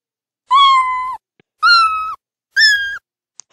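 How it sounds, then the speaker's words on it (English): Sped-up cartoon cat meow from the Scratch sound library, three short high-pitched mews in an even rhythm, each clear and close with brief silence between. "So it has a meow sound"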